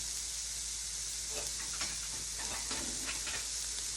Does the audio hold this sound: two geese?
no